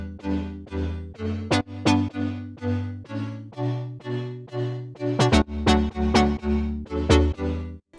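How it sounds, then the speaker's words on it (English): A synthesizer pluck plays a rhythmic melodic pattern of short, decaying notes with repeated sharp transients over sustained low tones, clear and alone. "So this is the first pluck."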